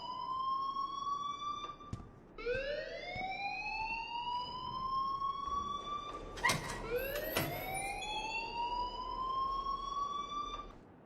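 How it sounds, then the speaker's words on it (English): An alarm wails in the video game Life is Strange, a rising siren-like tone that repeats in sweeping cycles, loud and steady, with a few clicks and thumps in between. "please turn off that alarm since that's your job"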